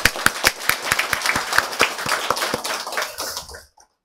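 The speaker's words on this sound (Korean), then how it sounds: "우리 함께 감사와 격려의 박수를 한번" A church congregation at a Wednesday prayer meeting claps in thanks and encouragement, a dense burst of many hands with sharp overlapping slaps that stays fairly loud and then stops abruptly near the end.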